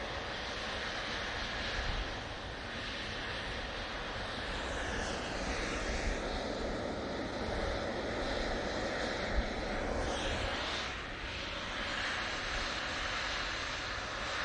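Airliner engines at Manchester Airport roll as a steady, broad roar with a slowly shifting whine, moderately distant and sustained throughout with no voices.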